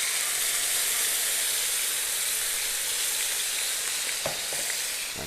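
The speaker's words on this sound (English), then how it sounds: "I'm going to put the meat in" Meat hitting hot grapeseed oil in a pan, a loud, continuous sizzle and hiss close by, with a couple of brief clinks of a utensil near the end and no talk.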